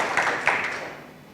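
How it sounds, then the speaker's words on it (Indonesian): Short applause from a church congregation, a couple of quick bursts of clapping that fade away within a second. "Yang setuju berikan tepuk tangan meriah buat Tuhan kita"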